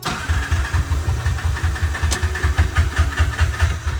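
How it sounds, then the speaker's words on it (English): A tuk-tuk with a seized carburetor is being cranked, its engine turning over in a rapid, loud, rhythmic chug that keeps going without catching, close up with no talking. "After more failed engine ignitions"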